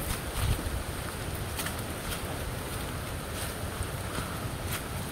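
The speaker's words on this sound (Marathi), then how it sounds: "हा वारा, झाडं कशा हालतायत" Steady gusting wind through trees on the Panhala fort to Pavankhind trail roars against the microphone in a broad whooshing hiss, with faint rustling bursts throughout.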